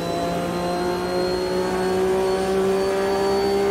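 A Mercedes race car engine in the AMS 2 racing game during a World Sportscar Championship race, a loud sustained high-revving drone with steady tonal harmonics that rise slightly in pitch, with no talking.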